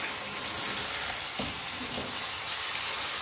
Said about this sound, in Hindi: गोश्त को इसके साथ डाल के अच्छे से जो है ना फ्राई करेंगे